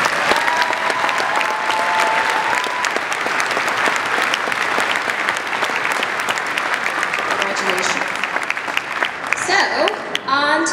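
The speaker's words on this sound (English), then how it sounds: "Let's give them a round of applause" Sustained applause from an audience at a Dean's List awards ceremony honouring the finalists, steady dense clapping throughout, with some cheering and a few voices near the end.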